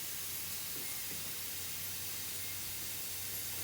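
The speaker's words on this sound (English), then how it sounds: "I'm just gonna turn the key and give it fuel pressure and see what the spray pattern looks like." A stuck-open fuel injector from a Nissan Z31 sprays fuel under pressure, giving a faint, steady hiss that runs unbroken and alone.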